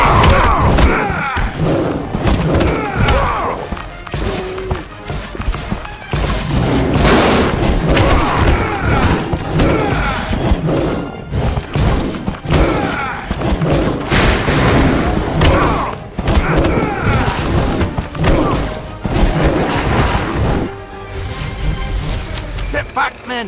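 Heavy artillery booms and thuds in The Golden Compass video game at Trollesund, loud repeated impacts mixed with shouting voices and battle noise.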